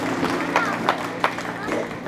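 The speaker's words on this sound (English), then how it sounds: "Let's give them a big round of applause." An audience at a church camp praise concert claps for a family, with scattered sharp claps mixed into crowd chatter and voices.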